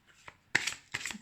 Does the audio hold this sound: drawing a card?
yes